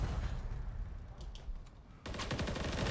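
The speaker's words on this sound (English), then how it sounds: "I don't know where I'm getting shot from." Rapid gunfire in a Call of Duty Hardpoint match: dense, loud bursts of automatic fire fill the clip, easing briefly before a fresh, sharper volley starts near the end.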